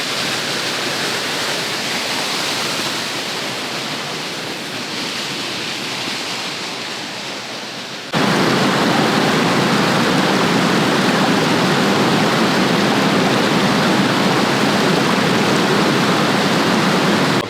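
Running water near snowy mountains in the Scottish Highlands makes a constant rushing roar that steps up suddenly to a louder, fuller level partway through, with no voices.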